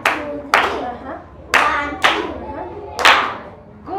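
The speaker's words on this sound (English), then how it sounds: "let us clap for ourselves" A group claps in unison in a rhythmic pattern, sharp loud hand claps landing in spaced bursts with ringing room echo between them, close by and without talk over them.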